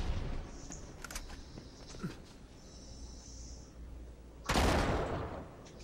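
Gunfire in the action game Uncharted 3: a few scattered shots early on, then one loud, close blast near the end, over a low, rumbling game background.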